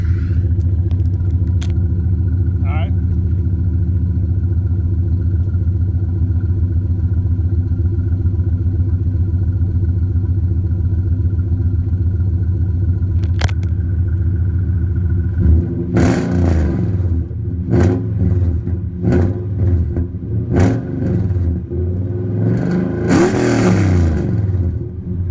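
A Yamaha YFZ450 ATV engine idles steadily at close range, then revs repeatedly in sharp bursts during the second half. A few clicks and handling noises come through early, and no one speaks.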